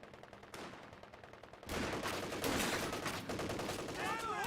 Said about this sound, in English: Rifle squad taking a bit of fire there.